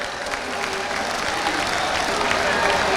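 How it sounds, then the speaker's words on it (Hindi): A crowd at an outdoor election rally for an independent candidate claps steadily, a dense sustained wash of applause throughout with faint voices mixed in. "एक बार तालियां बजाकर इनका सम्मान कर दीजिए।"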